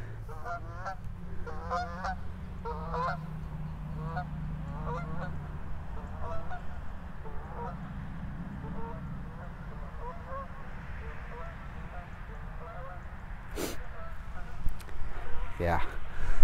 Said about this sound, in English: Hold on, let's look at them birds.